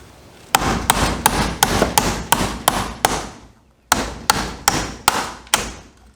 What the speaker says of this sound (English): I gotta be able to see this so I can hammer it right.